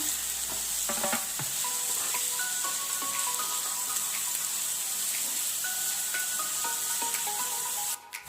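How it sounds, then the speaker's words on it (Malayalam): Chopped onions sauté with ginger and garlic in a hot pan for a prawn dry roast, giving a continuous, even sizzle with scattered scrapes and clicks of stirring. "ഇനി ഇതിലേക്ക് നമ്മൾ സബോള ചേർത്ത് കൊടുക്കാൻ പോവുകയാണ് ഇത് ചേർത്ത് നന്നായി ഒന്ന് വഴറ്റിയെടുക്കാം"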